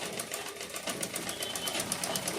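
Sewing machine stitching around the edges of fabric lining, a fast, even mechanical clatter at moderate volume, close and unbroken, with no voices.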